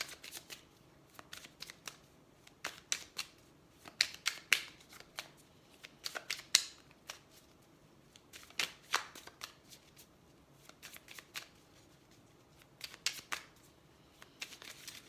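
Tarot cards handled and shuffled alone for about fifteen seconds, a run of crisp riffling flutters and soft slaps coming in irregular bursts, close and fairly quiet.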